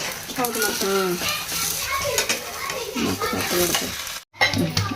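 Holige flatbread sizzles and fries in oil in a pan, a steady crackle running beneath overlapping talk and children's voices close by, with one brief dropout near the end.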